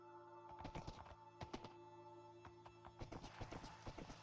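Horse hooves clip-clop in a blocky survival crafting game, bursts of quick hollow hoof thuds close by with brief pauses between.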